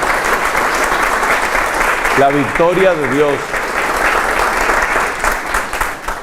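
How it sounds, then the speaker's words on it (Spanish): A church audience applauds in dense, steady clapping across the whole stretch, while a voice speaks over the middle of it. "un aplauso de amor para ella"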